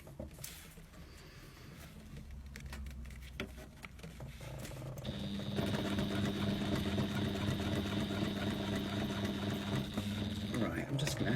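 A sewing machine stitches a rolled leather strap handle, starting partway through with a steady, fast mechanical whir that runs on at a constant pitch until near the end, following some quieter handling noises.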